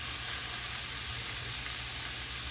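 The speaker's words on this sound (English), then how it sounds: "You can definitely hear the sizzle." Beef sizzles steadily in a hot skillet, a constant crackling hiss with no talking.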